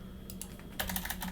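Keystrokes on a computer keyboard entering network configuration, a light pause then a quick burst of clicky taps, close and quiet with no talk.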